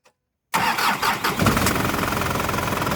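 After a brief silence, a 120-horsepower pickup truck engine cranks and catches loudly, then settles into a steady, even idle that continues close by without talk.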